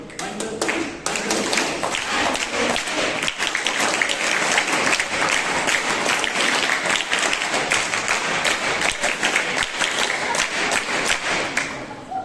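A seminar audience at a school breaks into sustained, dense applause, many hands clapping loudly and evenly for about twelve seconds after a brief quieter start.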